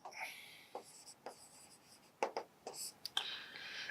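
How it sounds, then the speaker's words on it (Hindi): A pen scratching out a definite integration solution by hand, in short irregular strokes and taps recorded close and quiet, with brief pauses between strokes. "आइए तो सॉल्यूशन लिखता हूं मैं"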